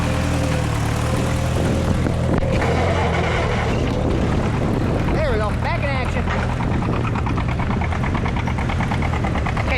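Small Cub farm tractor engine chugging while plowing a field, a loud steady low drone heard up close with a voice speaking over it partway through.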